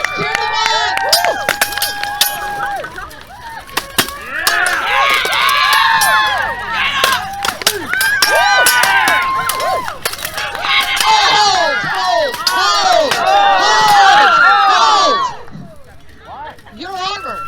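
A crowd at a Renaissance faire longsword-versus-katana fight cheers and whoops in repeated loud bursts, with shouts and babble rising and falling over about fifteen seconds before quieting.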